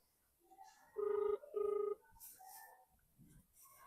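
A telephone rings twice in quick succession during a call, each ring a buzzing pulsed tone about half a second long, followed by quieter indistinct background sounds.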